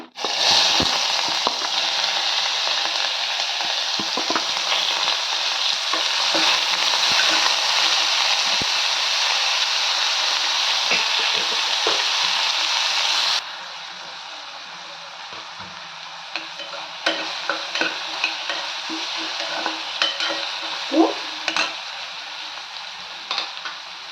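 Loud, steady sizzling of chopped onions frying in a hot pan, dropping in intensity partway through, with occasional stirring clinks and scrapes.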